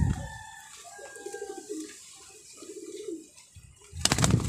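Pigeons cooing inside a loft, a series of soft low warbling coos at moderate distance, followed near the end by a louder burst of shuffling or flapping noise.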